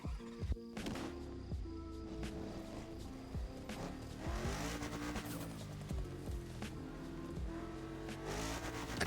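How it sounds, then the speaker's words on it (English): A Porsche Panamera wagon drives past at a busy motor show, its engine noise mixed into a dense crowd din with music-like tonal layers and no clear single pass-by peak. "The Panamera wagon."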